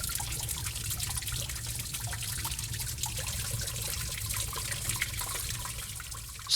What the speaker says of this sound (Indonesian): Di Gua Putri terdapat banyak tetesan-tetesan air yang selalu ada sepanjang tahun.